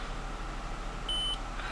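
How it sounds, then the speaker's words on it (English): One short, clear electronic beep from a 2008 Lexus GS350 sedan's radio saving a preset, over a quiet background hum, with no talking. "It beeps, and now you just programmed it."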